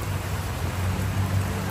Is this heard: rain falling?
yes